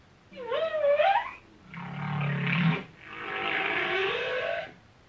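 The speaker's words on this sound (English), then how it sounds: "A whale sounds like this." Whale calls played back from a smart speaker: three long, loud moaning and groaning vocalizations with rising and falling tones, each lasting over a second, heard alone without talk.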